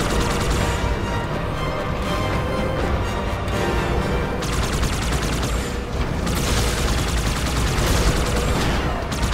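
Continuous gunfire and crashing impacts from a Halo 2 Anniversary firefight, dense and loud throughout with a shift in intensity midway, no clear voices.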